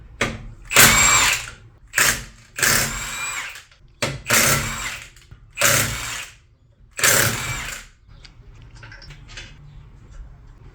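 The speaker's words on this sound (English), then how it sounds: "I'm going to take my dad's lovely Milwaukee M18 impact gun and zip all these lug nuts off real quick" A Milwaukee M18 cordless impact gun fires in six loud, separate bursts as it zips the lug nuts off a 2017 Mazda3 wheel. Quieter mechanical fiddling follows at the end.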